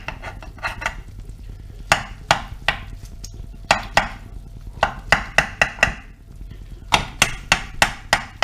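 A knife slices cooked lasagna into pieces, producing a series of crisp, close taps and knocks against the dish, some in quick clusters, with short pauses between runs.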